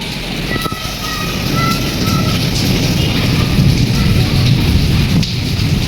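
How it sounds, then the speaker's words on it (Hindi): Heavy rain pours down steadily and loudly, a continuous dense wash of noise that holds for the whole stretch with no talk over it. "और देखो बारिश कितनी तेज़ हो गई अचानक"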